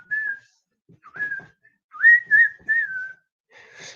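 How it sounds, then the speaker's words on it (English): Whistled melody of several rising and sustained phrases, played along with music, clear and fairly close with short pauses between phrases and no talking. "And you can whistle along with it."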